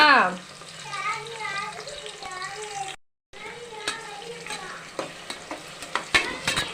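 Four large onions with green chillies sauté in a pan for mushroom biryani, a soft steady sizzle with stirring scrapes and clinks under a voice, a brief gap midway.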